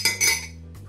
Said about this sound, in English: here's me scraping away with the spatula